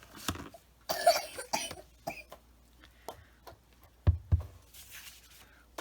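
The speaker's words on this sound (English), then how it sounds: "Poor little guy, he's just cough, cough, cough." Several sharp, dry coughs scattered through a quiet stretch, some in quick pairs, with faint throat noises between them.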